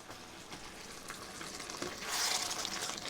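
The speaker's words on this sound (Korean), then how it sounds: "물이 나오면서 끓고 있습니다" Vegetables for tomato soup simmering in a pot, a steady close bubbling and sizzling hiss that swells slightly louder toward the end, with no talking.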